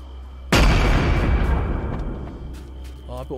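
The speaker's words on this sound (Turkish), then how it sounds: "Abi o ne, patlama sesi geldi ya." A sudden loud explosion in a horror video game, a single sharp blast that rolls into a long decaying rumble before a voice speaks faintly at the end.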